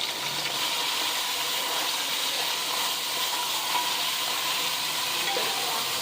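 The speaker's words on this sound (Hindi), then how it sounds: "अब इसके अंदर गोश्त डाल देंगे और इसको हम भून लेंगे" Beef sizzles in a pot with lightly fried garlic and ginger while being cooked for a 1 kg deigi-style beef korma, a steady broadband hiss of hot oil that stays even and fairly close throughout.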